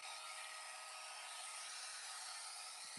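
A high-velocity pet grooming dryer blows on a labradoodle, a continuous loud airy roar with a steady high whine, unbroken and close, with no talk.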